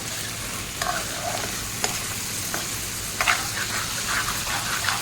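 Spaghetti sauce with tomato paste stirred in a frying pan, a steady sizzle running underneath with scattered scraping strokes of the spoon against the pan, moderately close.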